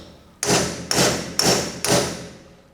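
A metal punch set on a rivet is struck with a hammer four times in steady succession, each blow a sharp, close ringing thud that fades before the next, with no voices.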